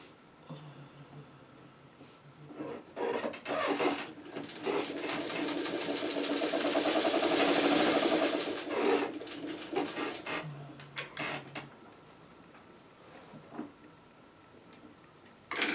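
A sewing machine runs one sustained stretch along the last seam of a churn dash quilt block, rising and fading in the middle of an otherwise quiet room.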